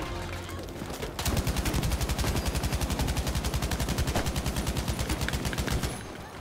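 A machine gun in Battlefield 5 fires one long, even burst of rapid, evenly spaced shots for about five seconds, loud and close, against quieter game noise before and after.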